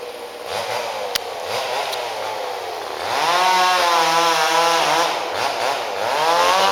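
Chainsaw cutting through a very large park tree roughly 140 feet tall, a steady nearby engine drone that rises in pitch and revs harder partway through; no crash of the falling trunk is audible.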